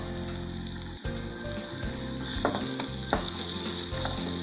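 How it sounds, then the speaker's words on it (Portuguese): Onions sizzle steadily in olive oil in a frying pan already used for frying liver, a constant crackling hiss with a few clinks of a utensil against the pan partway through. "aqui na mesma frigideira que você fritou o fígado, você vai colocar as cebolas"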